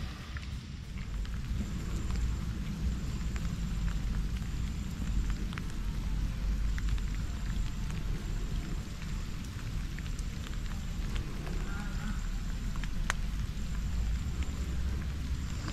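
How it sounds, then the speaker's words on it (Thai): Rain falls steadily and evenly for the whole stretch, a dense hiss of drops on surfaces with a low rumble beneath, heard while fishing with a short black rod. No one talks. "ฝนก็ตกครับ"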